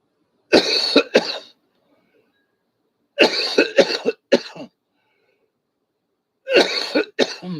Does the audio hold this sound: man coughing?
yes